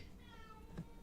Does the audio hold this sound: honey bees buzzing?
no